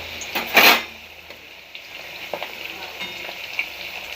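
Thin potato slices frying in oil for chips, with a steady sizzle throughout, one loud burst early on and a few light scrapes and clinks from the pan.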